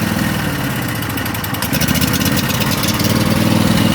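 A Craftsman lawn mower engine runs on choke close by, making a loud, continuous, throbbing drone with a slightly uneven pulse that grows a little stronger toward the end.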